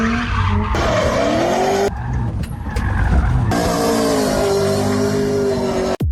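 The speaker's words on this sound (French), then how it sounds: "la voiture qui fait des dérapages" A car drifts on a track, tires squealing and skidding in long sweeping screeches over a roaring, revving engine, loud and close, with shifting pitch as it slides, no voices.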